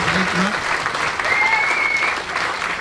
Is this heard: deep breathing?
no